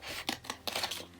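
Scissors cut out a month page for a book journal, giving a short sequence of crisp snipping strokes up close with paper rustle between them, no talking.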